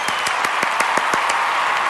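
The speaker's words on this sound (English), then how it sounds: "A round of applause to everyone." A short burst of applause from a small group, distinct claps ringing out in a quick, uneven rhythm, close and fairly loud.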